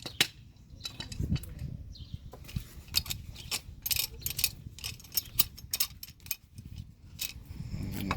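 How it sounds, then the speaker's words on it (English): A steel C-clamp is cranked open by hand for a front brake job on a 2009 Ford Taurus X, with a close run of irregular ratcheting clicks and metallic ticks across the clip and no talking. "I'll open our C-clamp up first."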